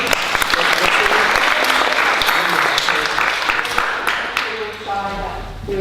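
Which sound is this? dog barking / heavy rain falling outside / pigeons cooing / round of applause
round of applause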